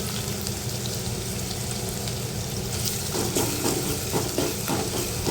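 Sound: ginger and garlic sautéing in oil with onion

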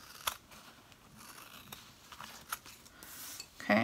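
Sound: cutting ranger zipper bag material

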